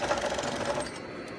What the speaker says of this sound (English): So just turn on my serger.